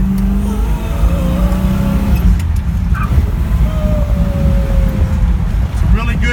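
A Pontiac GTO engine drones steadily from inside the car during a ride along, a loud, continuous low rumble with slight shifts in pitch as it pulls along.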